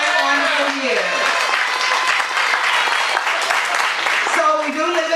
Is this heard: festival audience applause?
yes